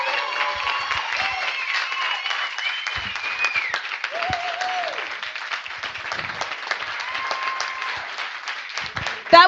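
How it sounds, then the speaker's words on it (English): An audience at a coding bootcamp demo day claps in sustained applause with scattered cheers and whoops over the crowd, a voice briefly rising at the end. "So can we please have a huge, huge round of applause for Shannon?"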